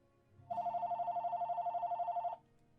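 Telephone ringing once in a room, a single electronic trill of rapid pulses lasting about two seconds, loud and clear with a quiet background before and after.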